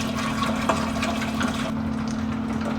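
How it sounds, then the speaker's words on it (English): Clean distilled water sloshes and rushes steadily inside the boiling tank of a Pure Water Midi Classic automatic distiller as it is rinsed out, a close continuous wash with a steady hum underneath. "fill up this tank, and just rinse it out"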